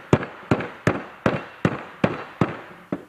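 Rapid, forceful blows pack soft clay into a Pewabic tile mold, eight close, loud thumps in a steady, fast rhythm, each with a short decaying ring and no voices.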